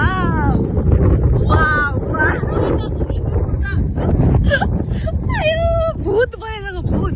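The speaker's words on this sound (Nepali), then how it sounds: "हामीलाई उडायो देख्न सक्नुहुन्छ तपाईँहरूले देख्न सक्नुहुन्छ हावाको कमाल" Strong wind buffets the microphone outdoors in a steady, loud rumble throughout, with people talking and exclaiming over it.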